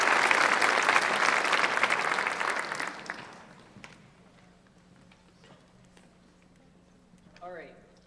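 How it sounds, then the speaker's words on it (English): Audience at a National Honor Society induction ceremony applauding a performer, loud sustained clapping that fades out after about three seconds, leaving quiet room noise and a brief voice near the end. "So let's have a huge round of applause for Jack Hammonds, our first performer tonight."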